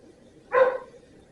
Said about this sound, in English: that's my dog barking trying to come in.